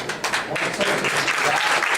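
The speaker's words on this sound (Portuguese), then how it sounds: "Um aplauso a todos os grupos." A conference audience at the closing session of the Fórum Interconselhos applauds all the groups, a short burst of close, busy clapping that carries on for the whole moment.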